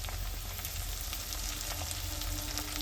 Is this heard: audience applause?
no